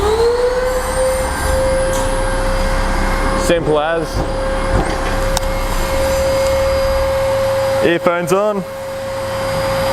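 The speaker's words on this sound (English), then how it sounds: "So first you want to turn your vacuum on." A vacuum attached to a hired concrete floor grinder runs as a steady, loud whine throughout, while someone speaks briefly over it.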